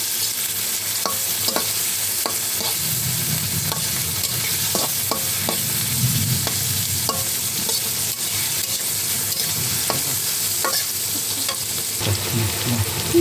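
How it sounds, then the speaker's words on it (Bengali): Onions fry in oil in a pan, browning with a continuous dense sizzle, punctuated by regular light stirring scrapes and soft taps, close and unbroken, with no voices. "পেঁয়াজটাকে আমি লাল করে ভেজে নেব"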